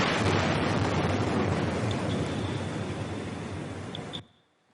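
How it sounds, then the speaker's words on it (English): Seismic survey air gun blasts recorded underwater, a loud continuous broadband roar with deep low rumble sustained for about four seconds before cutting off abruptly. "Air guns produce loud blasts,"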